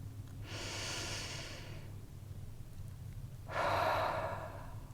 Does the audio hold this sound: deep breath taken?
yes